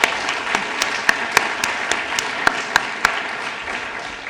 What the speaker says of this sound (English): So a massive round of applause for all of them.